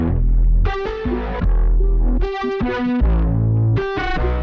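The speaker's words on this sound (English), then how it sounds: "So here's a dry loop that I'll play with." A dry, unprocessed music loop with pulsing bass and layered synth chords, played loud and steady with repeating bursts of bright stacked tones every couple of seconds.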